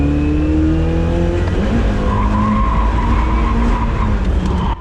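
Toyota AE86 Corolla drifting, a loud sustained tire squeal over a revving engine, close and continuous with shifting pitch.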